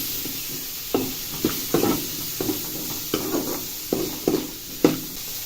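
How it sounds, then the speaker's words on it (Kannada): Paneer frying in oil with chili powder and salt in a pan, stirred repeatedly so a soft sizzle rises with regular scraping and clacking strokes of the spatula about once a second, close and moderate in level. "ಪನ್ನೀರ್ ಒಂದು 5 ನಿಮಿಷ ಫ್ರೈ ಮಾಡ್ಕೋಬೇಕು."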